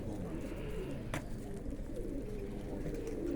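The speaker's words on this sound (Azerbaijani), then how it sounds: "Öz quşlarım da var burada." Pigeons at a racing-pigeon loft coo softly in low, continuous murmurs against a steady background, with one brief sharper noise near the middle.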